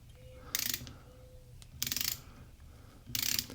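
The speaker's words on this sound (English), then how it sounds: "just pop in this one rear screw. This is a very coarse wood screw. And as we turn this in" A coarse wood screw driven into a laminate rifle stock, heard as three bursts of close ratcheting clicks from the driver with short quiet pauses between them.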